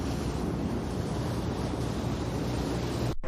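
Waves and wind wash steadily over open water aboard a boat, a dense, unbroken surf-like roar that holds loud and even, then cuts off abruptly at the very end.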